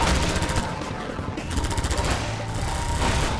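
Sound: gun firing in video game Half-Life 2

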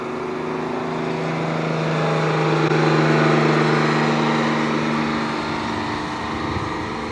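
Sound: guided bus diesel engine running

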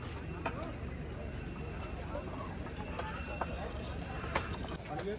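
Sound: horses and mules on the Kedarnath pilgrimage trail

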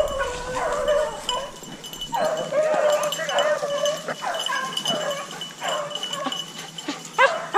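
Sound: bluetick hound dog barking while rabbit hunting

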